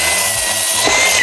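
A cordless power saw cuts through a wooden board for raised garden bed legs, a short, loud, continuous buzzing rasp close by with no talking.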